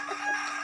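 A rooster crows in a short, bright call among a flock of chickens being fed, fairly close and alone without talk.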